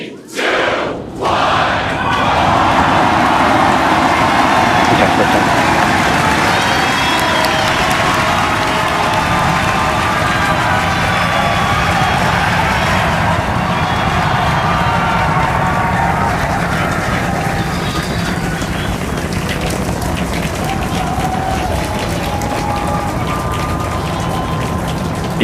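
A SpaceX Starship Super Heavy booster lifts off on its sixth flight, a loud, sustained broadband roar that swells after a brief quiet start and carries on for the whole stretch, with crowd cheering mixed into the rumble.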